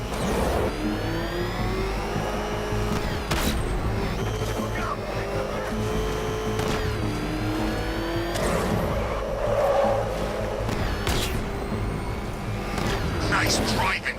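A car driven hard in the video game Batman: Arkham Knight, a steady engine drone with revving, tire squeals and sharp impacts, loud and continuous throughout.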